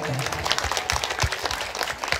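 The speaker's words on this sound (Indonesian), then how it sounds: "Tepuk tepuk tangannya boleh Bu" At an Islamic boarding school gathering, a small audience claps hands in loose, uneven bursts, fairly close and moderate in loudness, with a voice talking over the clapping.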